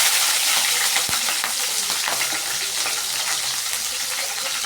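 Green chillies sizzle with onions and cumin in hot oil in a kadai, a steady bright crackling hiss close by with occasional stirring clinks, no talk.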